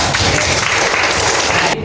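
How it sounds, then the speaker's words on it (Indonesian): A classroom group claps together in a brief burst of applause that stops abruptly near the end. "Tepuk tangan buat kita ya."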